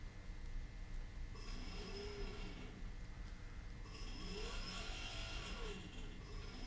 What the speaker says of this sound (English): hear the thruster winding up